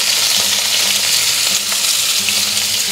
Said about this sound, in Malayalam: നമുക്കിനി ഇച്ചിരി ചെറിയുള്ളി അരിഞ്ഞ് ഇട്ട് കൊടുക്കാവേ